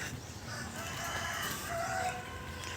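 A rooster in a family garden flock crows faintly amid outdoor background noise, one brief call rising above a soft, steady hiss with no talking.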